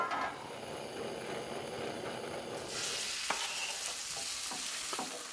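Meat chunks shallow frying in a pan, a steady broadband sizzle that brightens and grows denser partway through, with a few soft clicks of stirring, close and continuous with no talk.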